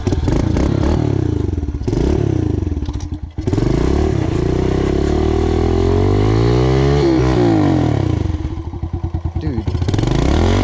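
A pit bike engine revs and bogs as it rides over wet, slippery ground, close and loud, with rising and falling pitch sweeps, a brief cutout, and some clattering.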